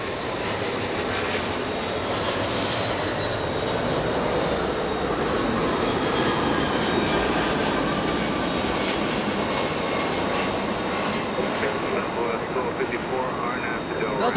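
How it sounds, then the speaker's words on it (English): A Boeing 757 jet arriving at Los Angeles International Airport roars loudly and steadily throughout, a dense sustained engine rush with a faint whine above it. "757 about to arrive"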